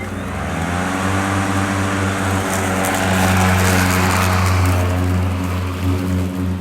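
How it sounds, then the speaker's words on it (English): An Ego lawn mower runs steadily while mowing a lawn, a loud, close, continuous electric whine and motor hum holding level throughout with no speech. "quick little mow of the lawn with the Ego lawn mower"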